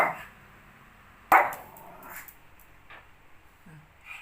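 A dog barks at another dog, a few sharp barks with one loud burst near the middle and softer yips and whimpers between them, close by with no talking.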